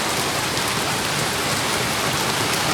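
Heavy rain pours steadily, a dense, loud hiss of drops beating on surfaces close by, unbroken throughout with no voices.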